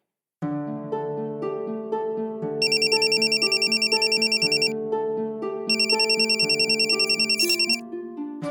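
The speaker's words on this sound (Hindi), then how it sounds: "सरला फोन उठाना, फोन काहे नहीं उठा रही?" A phone ringtone plays a repeating electronic melody, loud and close, with a bright trilling chime layered in twice.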